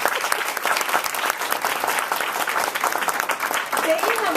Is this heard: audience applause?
yes